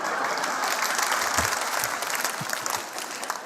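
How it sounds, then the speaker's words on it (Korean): An audience at a church talk claps loudly and continuously for a few seconds, many hands in a dense crackling burst, with a few louder individual claps standing out. "이 박수는 뭡니까?"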